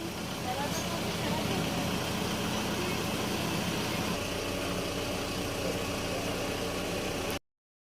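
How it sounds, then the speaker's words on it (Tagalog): A newly bought motorcycle idles with a steady, dense engine rumble that runs close and constant for about seven seconds before cutting off abruptly, with voices murmuring underneath. "Yan po yung biniling motor nila."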